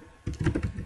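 A short run of quick keystrokes on a computer keyboard, a few close soft clicks tapped in fast succession.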